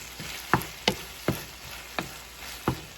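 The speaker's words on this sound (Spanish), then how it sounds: "le vamos a poner toda la latita de salsa y la vamos a mezclar" Tomato sauce stirred into beef picadillo in a pan, a low simmering sizzle broken by about six evenly spaced spoon knocks and scrapes, close and moderate, with no speech.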